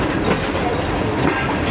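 Inside the Karakoram Express as it runs into Faisalabad, a continuous loud rolling rumble of railcars carries steady clickety-clack, with no voices heard.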